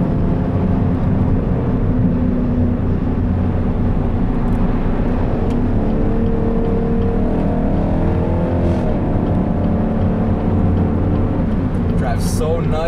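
A Chevrolet SS pulls hard on the road, its engine roaring loud and continuous from inside the cabin, the pitch climbing as it revs through the gears, with someone talking over the noise.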